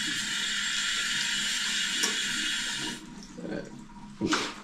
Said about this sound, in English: We open the shower.